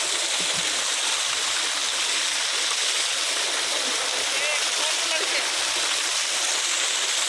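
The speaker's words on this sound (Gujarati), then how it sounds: "બધા વૃક્ષોને પાણી પાઈએ છીએ" Water streams steadily along an irrigation channel to trees in a village, a constant close rushing and splashing wash that stays even throughout.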